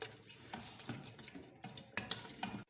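Bitter gourd and meat fry in oil in a pan: a soft, steady sizzle with occasional scraping and stirring clinks of a utensil, close and fairly quiet, with no talking.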